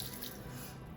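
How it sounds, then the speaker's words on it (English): Lukewarm water pours into a container set on kitchen scales for a bun dough, a soft, steady trickling hiss, quiet and brief with no talking. "add 280 grams of lukewarm water, which I put in here"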